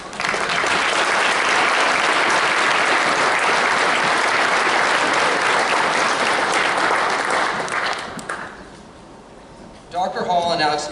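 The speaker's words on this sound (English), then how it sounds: "I just want to give a big round of applause and thanks to the coaches that we have." An audience applauds coaches at a 2022 athletic hall of fame induction ceremony, loud sustained clapping for about eight seconds before it fades and a voice begins to speak.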